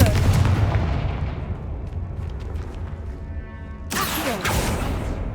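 A Confringo fire spell blasts in the Hogwarts Legacy video game, a loud booming burst with crackling rumble that fades, followed by a second sharp impact near the end.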